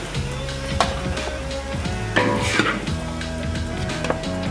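Broccoli stir-frying in a wok, a constant hiss of sizzle mixed with clattering scrapes and knocks of a utensil against the pan, close and loud, with no talk over it.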